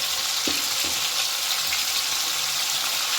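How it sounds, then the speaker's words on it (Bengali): Paneer cubes fry in hot oil in a pan with a dense, steady sizzle close by, broken by a couple of soft knocks from stirring. "লাল লাল করে ভেজে নেব"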